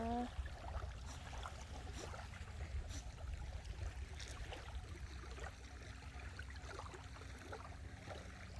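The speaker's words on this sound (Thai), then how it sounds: "มีเรือหาปลาอยู่นะคะ มีเสียงเรืออยู่" Fishing boat engine far out at sea off Songkhla, Thailand, on an overcast, showery day: a faint, steady low drone that stays constant throughout and sits under light water and ambient noise.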